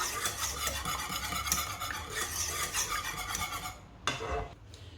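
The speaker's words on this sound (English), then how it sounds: "the first thing we need to do is to just whisk these egg yolks" Egg yolks whisked briskly in a bowl, a steady close scraping, swishing rhythm that runs continuously before pausing briefly near the end.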